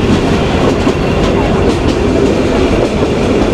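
The Paharika Express, running from Sylhet to Chittagong, rolls along the rails with a loud, steady rumble and rhythmic clickety-clack of wheels, heard close from aboard the train.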